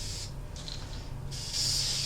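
Short aerosol bursts of mold release sprayed onto a new mold at a wax injector: two or three close hissing puffs separated by brief pauses, the last one longer and stronger, with no voices.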